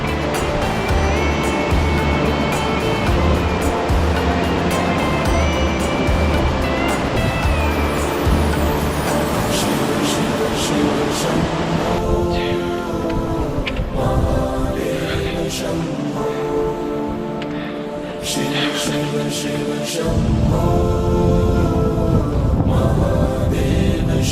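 A fast-flowing Ganges river on the Gangotri–Gaumukh trek toward Tapovan, a loud, steady roar of rushing glacial water close by, continuous throughout with no voices heard over it.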